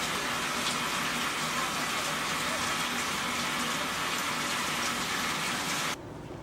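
Water gushes steadily from a kitchen tap while raw chicken is washed, a continuous hissing stream that cuts off abruptly near the end.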